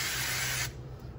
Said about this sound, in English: I'm using olive oil spray.